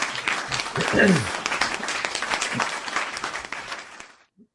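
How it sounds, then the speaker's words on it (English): Live-show audience applause, a burst of clapping that swells quickly and holds steady, partly overlapping a voice at the start, then fades and stops abruptly after about four seconds. "I think that's worth another round of applause."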